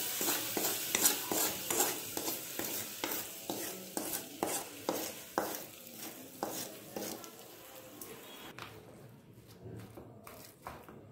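Hot tempering of asafoetida and fenugreek powder poured over amla (Indian gooseberry) pickle and mixed in, heard as a close, rhythmic series of scraping stirs with a faint sizzle that softens toward the end.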